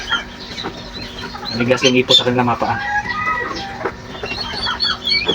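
Turkey chicks (pabo) in a homemade DIY brooder, their clucking and peeping calls nearby, mixed with a person talking over them for most of the clip.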